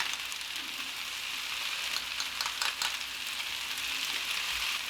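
Korean blood sausage stir-fries in a pan with gochujang, giving a steady close hiss of sizzling with a few brief crackles and faint stirring; no voices.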